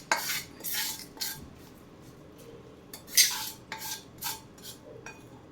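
A metal spoon scrapes and clatters against a pan as a fried tempering is stirred into jackfruit erissery, with several short, close, bright scraping strokes and pauses between them.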